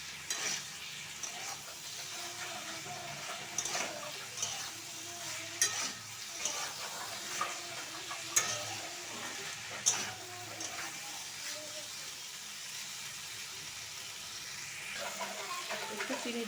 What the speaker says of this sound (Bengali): গ্যাসটা একটু জোরে দিয়ে দেবো যাতে মশলাটা ভাজা ভাজা হয়